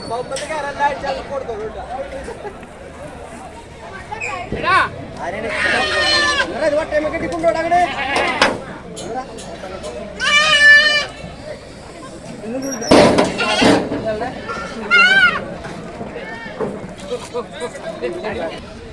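Several goats bleat in wavering, quavering calls that come in bursts at the Kalampur goat market while being loaded onto a vehicle, mixed with people chatting and some background clatter.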